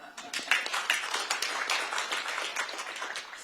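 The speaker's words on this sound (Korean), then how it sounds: "박수 쳐주는데 그냥 한번 주시죠." An audience at a Korean public talk claps steadily, a moderately distant, fairly dense round of applause that carries on evenly throughout.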